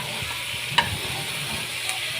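Sardines and tomatoes being stirred in a hot pan, a steady close sizzle broken by a sharp scrape of the utensil against the pan, with no talk.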